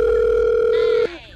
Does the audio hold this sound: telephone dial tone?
yes